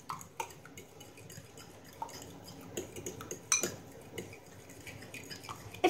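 A utensil scrapes and taps against a pan while rice and egg are stirred for a Thai-style omelet, giving quiet, irregular clinks and scrapes with no talking.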